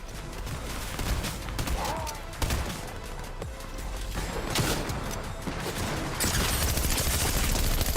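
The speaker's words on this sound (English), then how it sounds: "Why are they both shooting at me now?" Video game gunfire from enemies shooting at the player, a dense rattle of rapid shots and bursts that runs continuously and grows louder near the end.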